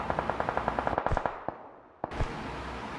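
Rapid bursts of automatic gunfire in a battle royale game, a quick run of sharp evenly spaced shots followed by a few scattered louder cracks and a brief lull, fairly close.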